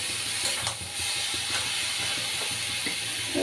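Banana flower (mocha) and prawns fry in a pan with a steady, loud hiss and sizzle, with a faint rhythmic scraping of stirring underneath.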